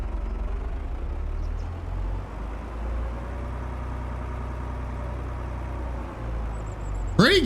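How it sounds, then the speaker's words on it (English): Tractor in a Canadian farming video game runs with a steady low engine drone and deep rumble throughout, close and even, with a brief sharp squeal at the very end. "Pretty good sounding tractor."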